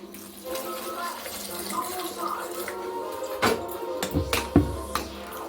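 Water is poured into a cooking pot holding chili powder, turmeric and sambar powder for a South Indian breakfast dish, splashing softly at first and then in a few louder, heavier gushes near the end.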